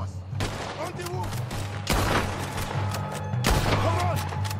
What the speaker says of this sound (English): There's another set of cannons up ahead!